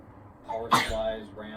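A single short sneeze bursts out mid-sentence while someone talks about computer parts, loud and close, followed immediately by his continued speech.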